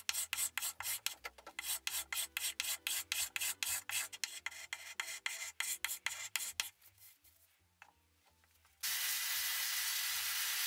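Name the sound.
hand scraper removing finish from an Art Deco wooden top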